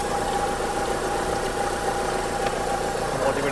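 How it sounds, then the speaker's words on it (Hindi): A second-hand Renault Duster's engine idles at a car market in Delhi, a steady, slightly rough mechanical rumble that runs evenly throughout. "ये हो गया भैया इंजन स्टार्ट"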